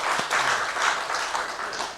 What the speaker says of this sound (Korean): 우리 하나님께 영광의 박수를 돌립니다.